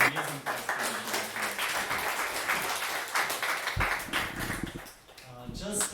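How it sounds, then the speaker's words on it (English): Audience applause at a lightning-talk conference, a steady wash of clapping that fills the room for several seconds while voices talk over it. "Can I get one more round of applause for the amazing 5"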